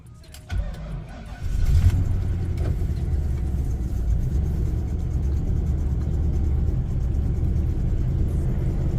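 A Grand Marquis fitted with Expedition rear coil springs starts up and settles into a steady low engine rumble as it begins to drive, close by and with no talk.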